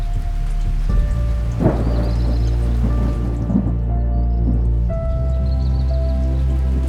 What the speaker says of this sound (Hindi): यहाँ शुरू हुई खतरनाक बारिश